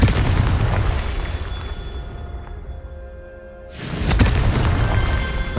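A Confringo fire spell explodes in the Hogwarts Legacy video game, a loud booming blast that fades, then a second heavy burst about three and a half seconds later.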